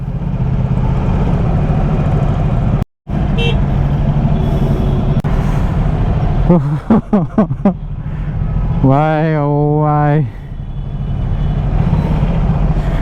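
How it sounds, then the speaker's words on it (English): Dense road traffic of trucks and buses rumbles close by, with hissing air brakes and a sustained horn blast near the end, while someone talks over the din. "Why is there so much traffic here?"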